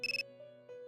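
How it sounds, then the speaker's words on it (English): A phone rings in Persona 3 FES with a quick burst of four trilling pulses, followed by a soft sustained electronic tone, faint and with no voices. "I get a phone call."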